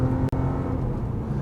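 Steady, loud drone of a modified B8 Audi S4 engine held at high RPM, continuous throughout with one brief dropout near the start, no voices.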